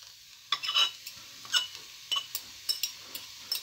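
Cooked macaroni tipped into a frying pan, then a soft crackle of frying and a run of scraping, tapping stirs with light metallic clinks, fairly quiet and close.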